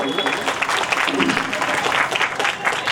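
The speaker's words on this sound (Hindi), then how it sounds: "आप अपने लिए एक बार तालियां बजाइए।" An audience at an evening cultural program claps at the host's invitation, producing a dense, fairly loud burst of applause that runs throughout with voices mixed in.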